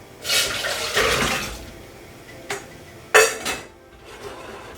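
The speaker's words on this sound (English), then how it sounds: "Now I will add the potato to the boiling water." Splashes and clatter of potatoes dropped into a pot of boiling water, a few separate bursts with quiet gaps between them, close by.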